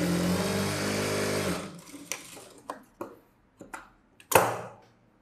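Sewing machine stitching a saree blouse runs steadily for about a second and a half, then stops, followed by several sharp clicks and handling knocks.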